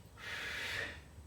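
One audible breath drawn in during a guard retention exercise, a soft airy inhalation lasting about a second, faint and close with no talk.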